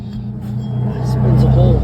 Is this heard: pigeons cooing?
no